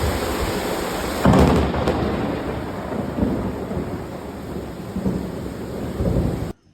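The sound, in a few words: rain and thunder in Ubud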